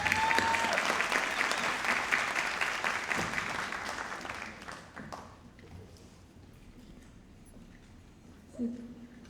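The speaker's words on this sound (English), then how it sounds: "Let's give her a round of applause." Crowd applause, loud and steady at first, then thinning out and fading to scattered claps before a brief bump near the end.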